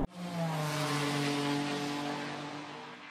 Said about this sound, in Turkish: Kalkamıyoruz çünkü yerler ıslak olduğundan ötürü.